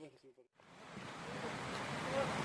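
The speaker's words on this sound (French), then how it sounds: "Et la petite rivière." A small mountain river in the Cordillera Huayhuash of Peru rushes with a steady, broad wash of flowing water that swells slightly, following a brief voice at the very start.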